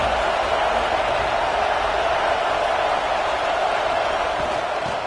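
Steady roar of a packed football stadium crowd at a Florida versus Texas A&M game, a dense, continuous wash of massed voices holding at an even loud level without distinct peaks.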